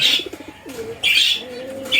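Pigeons in a farm coop make soft, low, pulsing coos in short repeated bursts, close by, with rustling and brief bursts of wing or feather noise in between.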